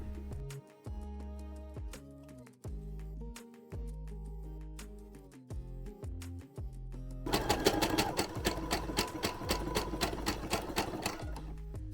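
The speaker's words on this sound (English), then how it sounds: "We're going to do a complete circle around the whole outside of the black first, and then we'll sew along the inside." A sewing machine stitches a circle around the black section of an Among Us plush, running in a steady whirring stream of rapid needle strokes that grows louder and denser partway through, with no voices.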